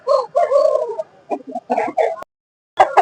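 A rooster clucks nearby at a weekly poultry market in Pileru, India, in several short, throaty bursts, then falls briefly silent before clucking again.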